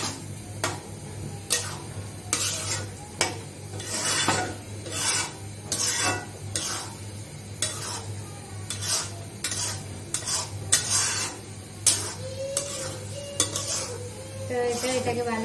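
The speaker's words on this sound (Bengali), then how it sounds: "এটাকে ভালোভাবে এভাবে নাড়াচাড়া করে নিই যাতে ডিমটা দলা পেটে না যায়" Egg being stirred in a pan with a spatula, sharp rhythmic scraping strokes over a low sizzle, close and steady for about fifteen seconds, with no talk.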